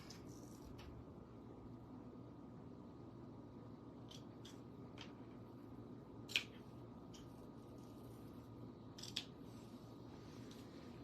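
Scissors snip out a paper card piece at a crafting table, a few short crisp cuts spaced apart against a quiet room hum, with no talking.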